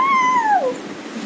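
Young child imitating a cat, producing one clear, drawn-out meow that slides downward in pitch over about a second, close and alone.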